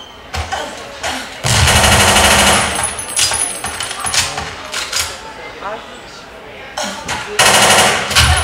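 Machine gun fire in the video game WarRock, loud rattling bursts of automatic fire separated by brief pauses, with someone talking underneath.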